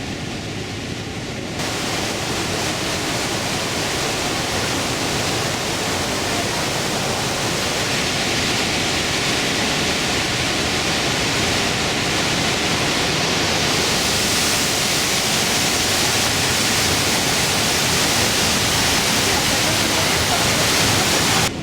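Trümmelbach Falls roars inside the mountain, a glacial waterfall thundering through rock gorges. The roar is loud and steady, a dense, unbroken wash of water that swells slightly and fills the whole stretch, with no voices.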